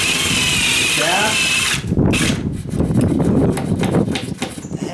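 A power drill bores a hole through the plywood behind an exterior wall for a sconce light fixture, a loud whirring burst that cuts off and is followed by scraping, knocking sounds under spoken comments.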